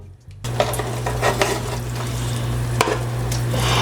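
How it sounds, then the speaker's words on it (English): Pork chops hit a hot pan and start sizzling loudly up close, with a steady frying hiss, a low hum, and a few scrapes and clinks of a utensil against the pan. "I'm gonna put my pork chops in first, because I want them at the bottom of the pan"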